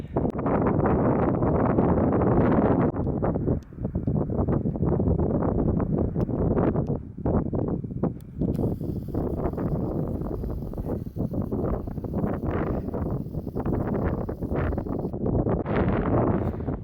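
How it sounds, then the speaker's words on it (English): Wind sweeps over Blackdown Hill, a loud continuous roar buffeting the microphone with gusts rising and easing throughout, no voices. "Slight wind."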